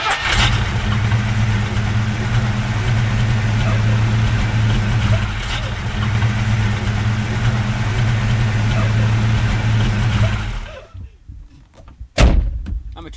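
A Ford Mustang V8 engine runs steadily at idle with a deep, loud, continuous rumble for about ten seconds, then cuts off, followed by a brief sharp knock and faint clatter.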